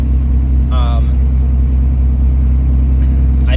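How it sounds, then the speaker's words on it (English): Truck engine with a stock turbo and 5-inch exhaust idling in a loud, steady low rumble, with a voice speaking briefly over it. "Right now, like I said, I've just got the stock turbo 5-inch exhaust. It does sound pretty good for"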